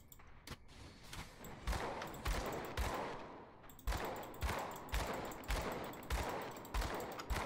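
Rapid gunfire from shooting enemies in Grim Dawn, a series of sharp, punchy shots in an uneven, quick rhythm, fairly quiet overall with a brief pause midway.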